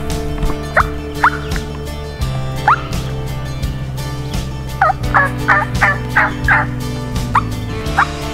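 Wild turkey gobbler on public land at midday, giving several loud gobbles in the open woods, first spaced singly and then in a quick run of repeated bursts over a low background hum.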